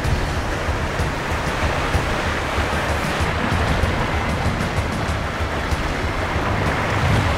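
Big open-sea waves during a sailing match race, a heavy continuous wash of surf and wind noise, loud and steady with no clear breaks.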